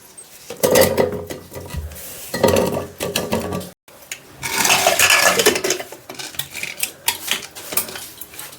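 Whole potatoes going into a pressure cooker for boiling, with close metal pot clatter, clunks and scraping in irregular bursts and a brief pause midway.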